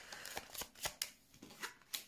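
Tarot cards being shuffled and drawn up close, a quick run of sharp papery flicks and slaps in an irregular rhythm, quiet, with no talking.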